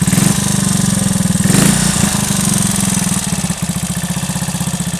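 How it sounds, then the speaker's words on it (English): A Triumph Tiger Cub motorcycle's small single-cylinder engine runs up on a bike lift, a loud close rhythmic putter with a brief blip of throttle midway before settling back to a steady idle. "The engine sounds very good mechanically."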